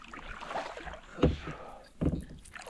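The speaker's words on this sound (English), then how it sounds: "gonna try to paddle this one away from those logs, out of the danger zone, out to the middle of the river" A paddle works a boat on a river near a log jam, giving two soft, close splashing strokes over a low background hiss.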